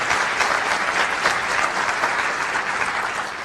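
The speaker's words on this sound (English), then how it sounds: "give him a round of applause" A large audience at a school STEM hub ribbon-cutting ceremony gives sustained, dense applause. It is steady and evenly loud throughout, with a faint crowd murmur underneath.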